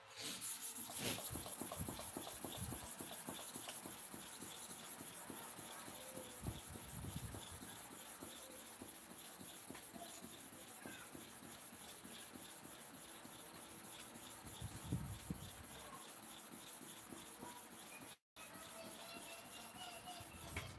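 A worn, condemned clipper blade is rubbed to and fro on a sharpening surface with steady pressure, producing a continuous rasping scrape with regular strokes, close and steady throughout with a brief dropout near the end.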